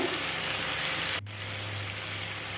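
Ginger paste, garlic paste and ground cumin fry in a pan for a tangra fish curry with ridge gourd and potato, a steady close hiss that drops to a softer sizzle after a brief clatter.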